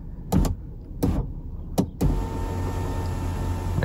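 A BMW panoramic sunroof motor runs through its initialization cycle. Three short whirring bursts are followed by a steady, continuous motor hum, close and fairly quiet, with no one speaking.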